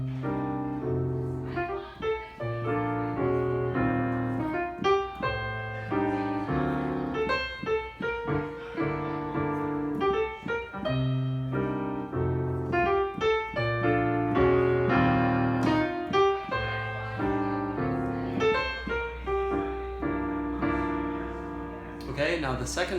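Piano plays a steady sequence of chords with a melody line on top, in a relaxed, even rhythm, the A section of a tune.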